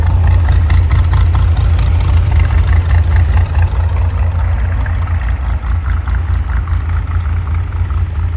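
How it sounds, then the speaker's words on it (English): A 1965 Chevrolet Corvair Corsa's 140-horsepower engine idles close by, a steady low rumble that holds evenly throughout with no voices. "There you have your 140 horsepower engine"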